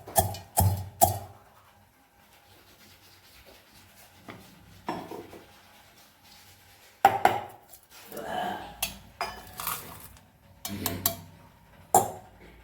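Sharp metallic knocks and clinks come in uneven bursts as something is pounded in a metal mortar and pestle, several quick strikes at a time, separated by quieter gaps of scraping and handling.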